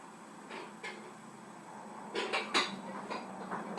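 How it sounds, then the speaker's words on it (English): Big metal spoons scrape and clink against pots while beans and chili are served into them, a few quiet scattered knocks followed by a denser cluster of clatters in a home kitchen. "a couple of big spoons. Oh yeah, big spoons. That's what I'm going to use to put it into my pans."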